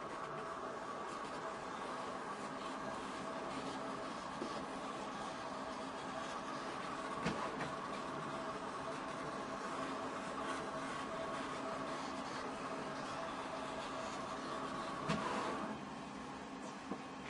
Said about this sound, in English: I'll go ahead and send it over to the cutter and we'll record that.